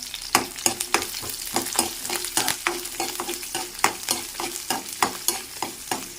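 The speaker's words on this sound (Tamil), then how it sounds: "சின்ன வெங்காயம் போட்டிங்கனாலே டேஸ்ட்டு நல்லாயிருக்கும் பட் சின்ன வெங்காயம் இல்லை அப்படின்னா பெரிய வெங்காயம் போட்டுக்கோங்க சரிங்களா இப்போ நல்லா வதக்குவோம்" Garlic and small shallot onions sauté in a pot, stirred with a spoon that scrapes and taps against the metal in a steady, busy rhythm over a constant close sizzle.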